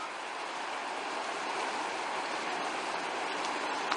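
A river flows by a boat ramp in Wasilla, Alaska, giving a steady broad rushing wash that holds even and moderately loud throughout, with no voices.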